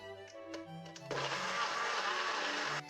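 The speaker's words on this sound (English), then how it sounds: "So we're adding 3 more chunks of frozen pineapple and back to the blender." A NutriBullet blender whirs into action on frozen pineapple chunks, a loud close buzzing roar that holds steady for about two seconds after a few quiet clicks and hums.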